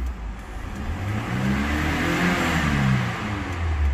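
A 1998 Toyota Camry with an imported 2.2 engine, revved while parked, the engine note climbing and then holding high in a steady, moderately loud roar, with no voices.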